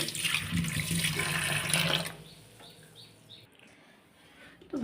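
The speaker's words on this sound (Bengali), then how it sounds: "আলুগুলোকেও একটু ধুয়ে নিব" Tap water runs steadily for about two seconds while potatoes are washed at a kitchen sink, then cuts off, leaving quiet room noise with a few faint high chirps.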